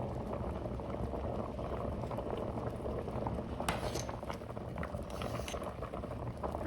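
Potatoes boil in a pot of water with a steady, close bubbling and hiss that holds evenly throughout, with a few brief clinks over the simmer.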